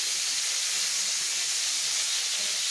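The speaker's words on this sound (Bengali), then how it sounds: "আর এখানে তো অবভিয়াসলি ফুলকপি আলু লাগছেই, ফুলকপিটা ভেজে নিচ্ছি।" Cauliflower pieces fry in hot oil in a home kitchen, a steady, even hiss of sizzling that holds without a break, close by and with no voices.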